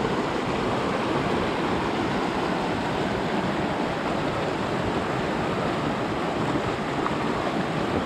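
A stream runs swollen across a hiking trail crossing on the Grafton Loop in wet May conditions, producing a steady, full rushing wash of water that holds constant throughout with no voices.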